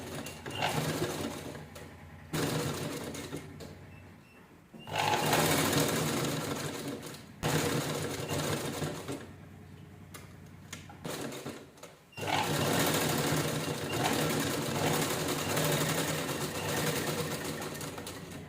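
Sewing machine running in repeated bursts while stitching a purse made from two zippers, long loud runs of steady whirring separated by short pauses, close by with no talk.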